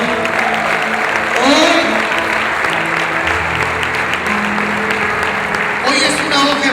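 A church congregation applauds during a Spanish-language sermon, a broad wash of clapping mixed with voices and cheering, continuing under the pastor's speech.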